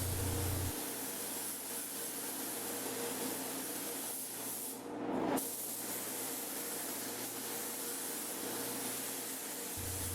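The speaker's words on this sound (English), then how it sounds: "Spraying clear is probably the most fun part of the job, and that's what gives it its shine and its hold out against the sun." A spray gun applies clear coat to a car panel inside a downdraft booth: a continuous loud airy hiss that holds steady for the whole stretch, with a short dip and swell midway, and no talk.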